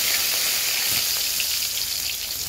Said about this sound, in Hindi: तेल गरम हो चुका है, इसमें मिर्चा को ऐसे तोड़ के डालेंगे